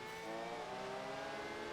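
Race car engine in Project Gotham Racing 4 revving high near its gear-change point, a steady loud whine with strong harmonics held throughout, no talk.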